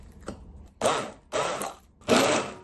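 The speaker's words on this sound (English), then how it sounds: "I'm going to be using my immersion blender to mush these up." An immersion blender mashes bananas in a bowl for vegan, gluten-free cookie dough, running in three loud whirring bursts with short pauses between, after a faint knock at the start.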